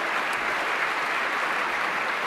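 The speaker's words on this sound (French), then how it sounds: "Les applaudissements saluent l'entrée" Steady audience applause at a classical concert, greeting a violinist in red taking the stage for a Bach concerto at the Music Chapel festival; dense, even clapping fills the hall at moderate level with no talk.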